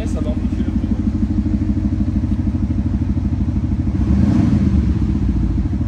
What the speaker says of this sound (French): Vas-y, mets des coups de gaz, voir ce que ça donne.